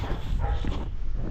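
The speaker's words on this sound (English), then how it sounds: "I've heard this dog barking the whole time I've been walking for the last 5 minutes coming up here" A dog barks somewhere on a hillside path above the old town of Banská Štiavnica in Central Slovakia, a few short yips and barks at moderate distance over steady outdoor background noise.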